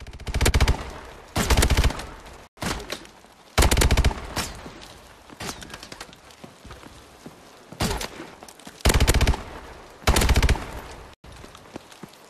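Laser gun in a team shooter video game firing in sharp, loud bursts separated by short pauses, with quieter battlefield clatter and footsteps between volleys.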